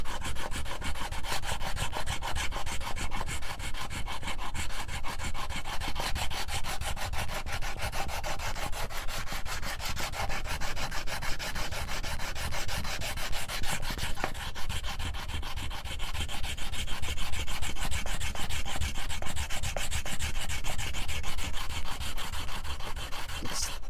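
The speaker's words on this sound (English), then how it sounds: "just go over the fretboard here and just start sanding this down" Sandpaper of 120 grit rubs back and forth across a banjo fretboard with pearl inlays, a continuous close scratchy rasping with a steady, even rhythm throughout.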